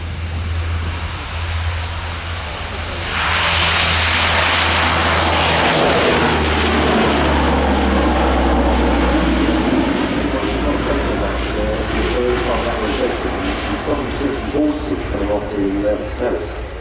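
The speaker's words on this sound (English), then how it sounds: "this aircraft not part of the display, but which is heading out on departure back to base" A Lockheed aircraft departs the runway at an air show, its engine noise swelling to a loud, sustained roar that slowly fades, while a commentator speaks over it.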